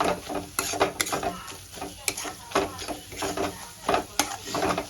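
Eggs coated in spice paste stirred and frying in a pan, with repeated scraping strokes of a spatula against the metal over a steady sizzle, close and fairly loud, faint voice in the background.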